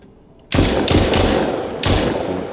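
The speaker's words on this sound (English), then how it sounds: "So when we fire, that's really loud." Gunfire from a zombie video game prototype: loud shots that start abruptly and run as a sustained rapid burst, with a second burst rising near the end, no speech.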